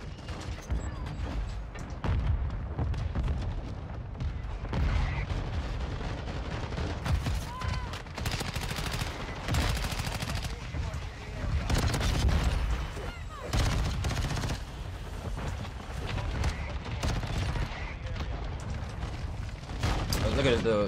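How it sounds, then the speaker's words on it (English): Repeated shotgun blasts and other gunfire crack through a busy Call of Duty: Modern Warfare II Season 3 match, irregular heavy booms spread across the stretch, with game voices and chatter underneath. "Shotgun, shotgun. I mean, no light, just using shotguns."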